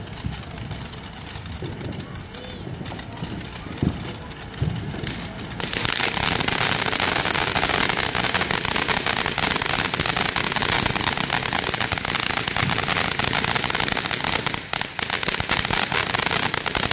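Neighbours set off fireworks and firecrackers for the Fourth of July, producing dense crackling bursts and pops. They begin sparsely, then swell into a loud continuous barrage after a few seconds, with voices talking faintly underneath.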